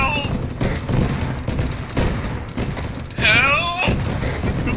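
Arma 3 gunfire with shots punching through walls: bursts of sharp reports crack in quick succession while a player shouts over them.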